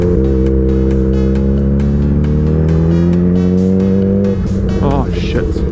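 A car with loud pipes revs hard and passes close by in a forest parking area, its engine note rising steadily before dropping away, with voices audible over it.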